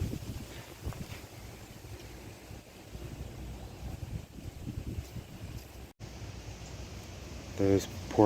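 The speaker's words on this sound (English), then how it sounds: "the wind keeps blowing them all over the place" Wind gusting through a home vegetable garden with tomatoes, marigolds and onions, a steady rough rumble of air buffeting the microphone throughout, with brief louder surges.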